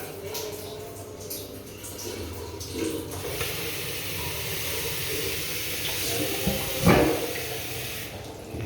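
Water runs from a condo bathroom faucet during an inspection test of hot and cold flow. It makes a steady, moderately quiet rushing splash with a brief louder clunk near the end.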